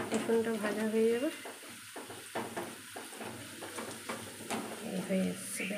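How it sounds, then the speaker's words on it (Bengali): Garlic fries in a pan at home, giving a steady close sizzle with stirring scrapes throughout, while someone talks over it. "রসুনটা ভাজা হয়ে যাবে,"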